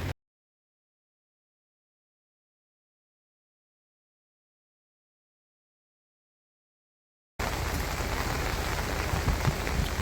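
Heavy rain pours down during a storm in Becharaji, Gujarat, a dense, steady hiss of falling water that comes in only after a long silence and continues through the last few seconds.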